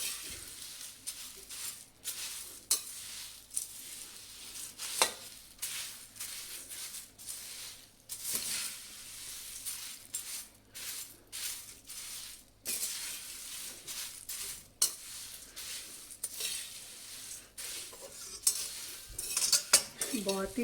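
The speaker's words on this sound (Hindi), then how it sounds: "स्लो गैस पे इसको अच्छे से मिक्स कर लेंगे।" A spoon stirs an oats and cornflakes snack mixture in a pan over a low flame, with repeated scraping and clinking strokes against the metal, some sharp taps and a faint sizzle underneath, close and fairly steady throughout.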